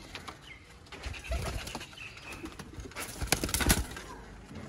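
Fancy-breed pigeons, among them black-faced, golden and teddy types, coo softly up close while wings flap and rustle in sharp bursts, loudest near the end.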